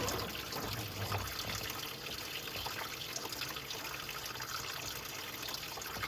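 Water drains steadily out of a Volvo Penta 3.0 boat engine during winterizing, a soft continuous trickling and splashing heard alone at low volume.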